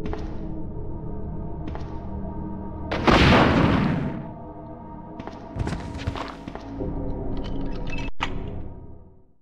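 A rocket launcher blast in the Resident Evil 2 video game, one loud boom with a broad noisy burst that swells and decays over about a second, set among softer in-game thuds, footsteps and clatter with no talking.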